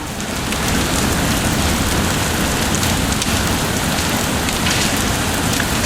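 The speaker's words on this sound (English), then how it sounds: "it's raining pretty hard right now" Heavy rain pouring down steadily, a dense continuous hiss of drops hitting surfaces, loud and close without pause.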